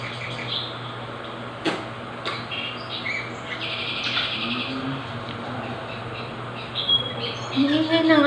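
Pet birds belonging to an older brother chirp and tweet in quick, bright bursts throughout, moderately close, over a steady background hum with some voices nearby.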